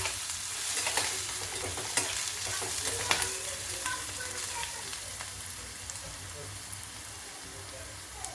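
Onions frying toward golden brown in a pan, with a steady soft sizzle and intermittent scraping stirs, fairly quiet and close.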